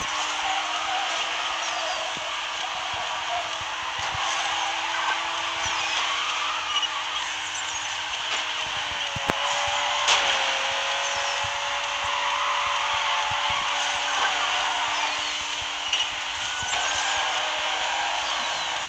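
Race cars in a Need for Speed game drone steadily and loudly throughout, with a sustained engine whine holding a fairly constant pitch and only small shifts, a brief tick near the middle.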